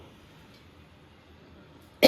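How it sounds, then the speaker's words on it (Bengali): A woman gives a single sharp, close cough that bursts out at the very end after a stretch of near silence. "কথা বললে কাশ বাড়ে, গলার ভিতর চুলকায়"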